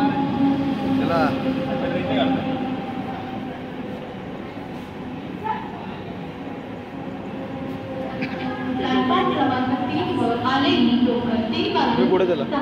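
A Mumbai suburban ladies' local train bound for Chhatrapati Shivaji Maharaj Terminus rumbles past at midnight with steady rolling noise and a few higher squeals, moderately loud, while people talk in the background.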